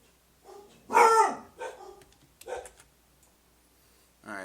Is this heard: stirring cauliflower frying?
no